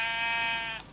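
A sheep in the Minecraft video game gives one drawn-out, buzzy bleat lasting nearly a second, loud and close, fading out at the end.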